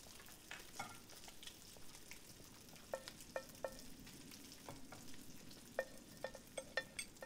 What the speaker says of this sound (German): Was hat die da jetzt gebraten?